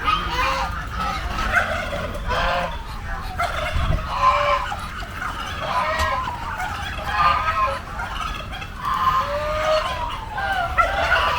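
Repeated rapid gobbling calls from turkeys among a noisy, crowded flock of fowl at an agricultural park in Padang Besar, Perlis, Malaysia, with a constant rumbling background throughout.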